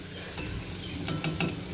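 Spices for chicken curry fry and get stirred in a pan, a steady soft sizzle with a few light scraping strokes near the end, fairly quiet and with no voices.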